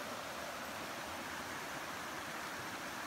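A spring-fed river that wells up from underground, the Current River in June, flows with a steady, faint, even rush of water throughout, with no voices.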